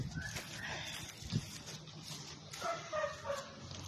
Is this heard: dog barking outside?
yes